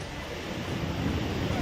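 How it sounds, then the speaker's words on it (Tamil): Floodwater pours over the Courtallam waterfalls in a dense, continuous roar of gushing water. The sound is steady and broad, with no pauses. "குற்றால அருவிகளில் தண்ணீர் ஆர்ப்பரித்து கொட்டி வருகிறது"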